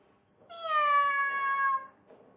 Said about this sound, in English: Meow! Right?